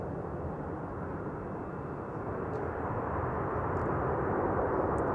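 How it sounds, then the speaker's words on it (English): A British Airways airliner arriving from London Heathrow at Amsterdam Schiphol Airport on a frosty morning makes a steady, loud jet roar that swells slightly throughout, with no voices. "BA flight 432 arriving from London Heathrow"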